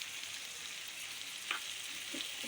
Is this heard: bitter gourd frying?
yes